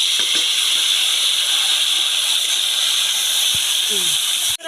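Steady hissing sizzle of lentil dumplings and peas frying in hot oil, continuous and fairly loud, with a few faint clinks and a brief voice near the end.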